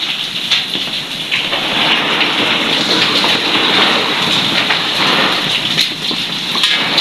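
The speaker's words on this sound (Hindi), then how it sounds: "ये देखिए जी, कितने मोटे मोटे से ओले आके गिर रहे हैं।" Dense, continuous pelting of hailstones on hard surfaces, a loud steady rattle with scattered sharper impacts and no voices.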